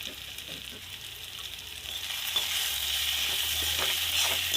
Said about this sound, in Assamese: এতিয়া আদা ৰচুনখিনি দি দিছোঁ ইয়াত